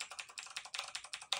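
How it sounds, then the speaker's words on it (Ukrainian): Computer keyboard keys clacking in quick, uneven bursts of close, crisp clicks, loud enough to sound like an old typing pool. "Клавіатура? Клавіатура. Від печатної машинки? Ні. Бо клацає, як в машинописному бюро."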